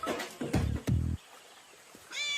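A cat meows in a few loud, close, drawn-out cries, followed by quieter rustling and a higher, tonal final meow.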